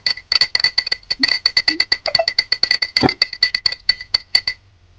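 Spoon stirring a mixture inside a glass, giving a fast run of bright, ringing clinks in steady rhythm, close and fairly loud, fading out near the end with no talk.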